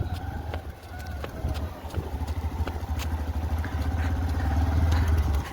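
A motorcycle idles and takes light throttle as a learner eases off the clutch, a low steady engine rumble that swells slightly toward the end, with small clatters and a faint bird in the background.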